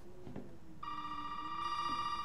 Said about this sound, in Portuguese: Ixi, telefone de novo.